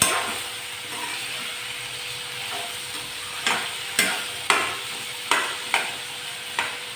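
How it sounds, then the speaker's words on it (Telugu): Ivy gourd (dondakaya) fries in a pan with a low, steady sizzle, punctuated by about half a dozen sharp metallic scrapes and clanks of a spatula stirring at regular intervals. "బాగా వేయించుకోవాలి"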